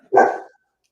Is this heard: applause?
no